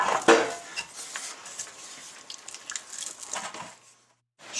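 A spatula scrapes and taps against baking pans while leveling Estonian rye bread dough, producing close, irregular clinks, scrapes and soft squishy pats with brief pauses.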